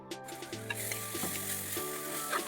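Chopped tomato goes into a pan of softening onions and sizzles steadily with a close, continuous frying hiss and a few stirring scrapes.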